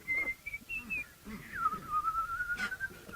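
A lone person whistles a tune from the Warsaw Concerto, a clear wavering melody with sliding pitch, close and fairly soft, with faint background noise.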